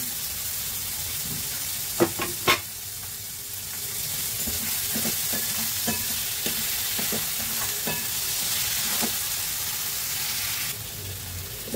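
Chopped tomatoes stirred into spices frying in a pan. A spoon scrapes and clicks rhythmically against the pan over a continuous close sizzle, with no one talking.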